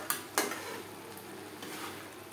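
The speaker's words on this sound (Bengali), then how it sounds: "এক দু মিনিট নাড়াচাড়া করে নেওয়ার পর" Mutton curry stirred in a pan on the stove, two sharp scrapes of a utensil against the metal at the start, followed by a soft steady sizzle and faint stirring noise, with no voices.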